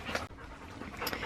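Dogs pant rapidly and steadily, close by, in a suburban Australian backyard garden, with a short dip in the middle of the breathing.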